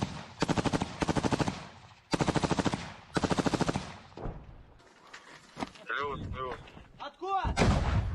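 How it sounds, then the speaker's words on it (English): Anti-tank weapon firing down a road in a war zone, with repeated rapid bursts of heavy gunfire followed by a distant boom, shouting voices and rattling noise. "our cameraman taking an anti-tank weapon and firing it down the road"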